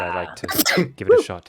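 A single sharp sneeze bursts out in the middle of a tabletop role-playing session, sandwiched between stretches of close conversational speech.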